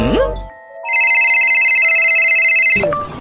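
A phone ringtone plays a steady electronic melody for about two seconds, loud and close, with brief speech just before and after.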